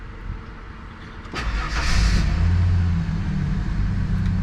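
A Ford E150 van's 4.2-litre engine with misfires cranks briefly, then catches and settles into a steady idle hum, loud and close.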